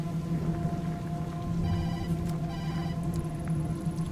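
A phone rings from inside a paper bag in the Tokyo Dark video game, with repeated bursts of bright trilling tones over a steady low hum and a dim ambient backdrop.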